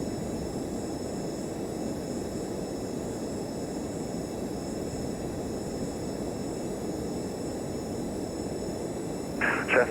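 Steady drone of a general aviation aircraft engine at takeoff power in a flight simulator, continuous and even throughout, with a short clatter near the end.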